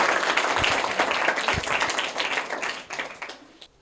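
A crowd claps loudly for a quiz winner receiving a bag as a prize. The burst of applause is dense and close, then tapers off in scattered claps over a few seconds.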